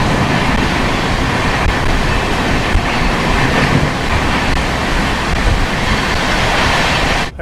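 The Netaji Express runs on its tracks at night in the rain, heard from inside an air-conditioned coach. A loud, continuous rumble and rushing roar holds steady for the whole stretch, with no talk.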